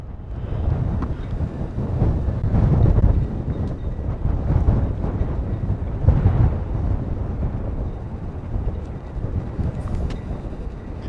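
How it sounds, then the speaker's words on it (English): Strong gusts batter an outdoor microphone in a public place, a loud, continuous low rumble with surging buffets that swell and ease throughout, with no voice heard. "Because it is super windy."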